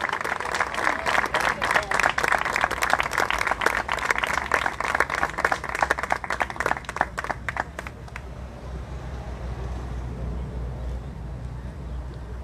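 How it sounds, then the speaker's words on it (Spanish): An audience claps for an award recipient at a municipal urban guard anniversary ceremony, steady applause for about eight seconds before fading into quiet room ambience. "la recibimos con un fuerte aplauso también"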